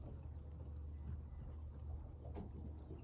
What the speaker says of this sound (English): Now this hose comes up, as you can see, water's coming out.